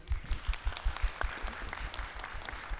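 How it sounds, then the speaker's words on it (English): A convention panel audience answers with a short, fairly quiet round of applause, scattered claps blending into a soft wash in the hall, with no talk over it. "Does anyone, by a show of applause, know who Jerry Lewis is"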